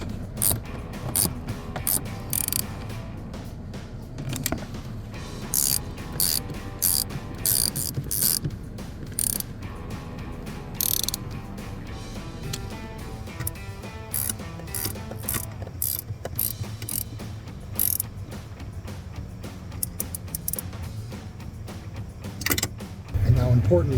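A 14mm socket on a hand ratchet tightens the bolts that hold the seats to new seat brackets in a Jeep Gladiator JT, giving rapid, repeated clicking close by for most of the time, with a person talking over it.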